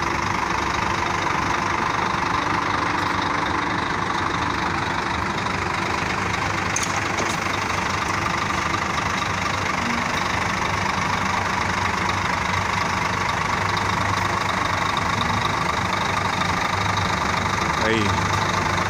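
A Caiçara Marcopolo Paradiso G7 1600 LD double-deck coach idles at a roadside stop in Guararema, giving a constant loud engine drone that runs unbroken throughout, with outdoor ambience and someone talking over it.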